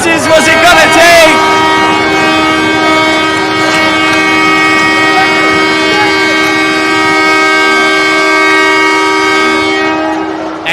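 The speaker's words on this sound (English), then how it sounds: "That is a real air horn that we use at the Ridgefield Winter Garden Ice Arena." A loud, sustained air horn blares for about ten seconds after a goal at a high school ice hockey game in an ice arena, a steady chord-like blast that cuts off abruptly at the end.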